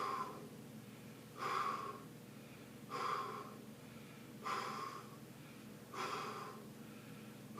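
Forceful exhales during a core exercise come as five evenly spaced breathy puffs about every one and a half seconds, close to the microphone, with quiet pauses between.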